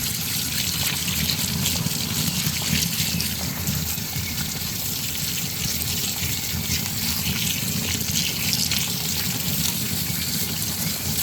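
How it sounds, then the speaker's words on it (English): Steady running water rinsing freshly tumbled rocks in a screen, a continuous close splashing and trickling with no pauses and no talking. "And I am just going to rinse them off here."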